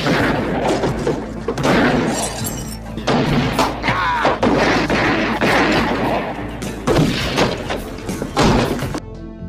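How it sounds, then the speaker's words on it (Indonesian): Gunfire in a movie shootout: loud, close bangs and heavy thuds crowd the scene in repeated clusters over a rumbling score-like background. "Nico dan Lucy muncul hingga terjadilah aksi baku tembak sengit"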